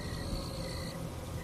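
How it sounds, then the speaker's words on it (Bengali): Crickets chirp at night in a silent, foggy village, a soft steady high trill running continuously, faint and distant, with no other sounds. "বাইরে গিয়ে দেখে ঝিঝি পোকার ডাক ভেসে আসছে।"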